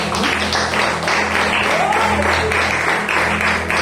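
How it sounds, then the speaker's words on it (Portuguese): A church congregation claps during a service, dense continuous applause filling the hall with a low hum underneath. "E as palmas do Senhor"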